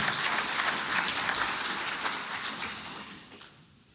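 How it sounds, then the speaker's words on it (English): An audience at an agriculture conference in South Africa claps in a dense, even burst that holds steady and then fades away over the last second, with no talking on top. "I thought that deserved a round of applause."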